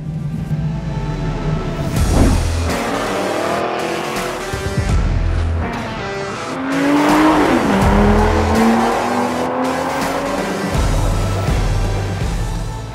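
Aston Martin V12 Vantage Zagato driven on a race circuit, a loud V12 roar sweeping up and down in pitch with tire squeal and skidding mixed in, close and continuous throughout.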